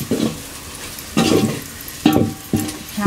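A spoon stirs onion-garlic masala for goat head curry in a pan, giving three or four short bursts of scraping and sizzling with quiet pauses between them, close up and without speech.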